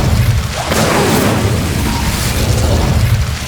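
An Incendio fire spell cast in Hogwarts Legacy, a loud sustained whooshing roar of flame that fills the whole stretch without pause, booming and dense.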